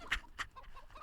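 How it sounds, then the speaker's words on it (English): Chickens on the Inferno map in Counter-Strike: Global Offensive clucking in a few short, close bursts, with brief gaps between calls. "What are the chickens doing?"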